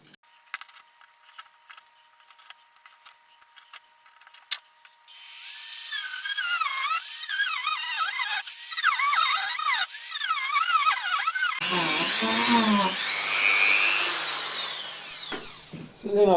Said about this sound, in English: So then I thought I'd try seeing if the router would work at this stage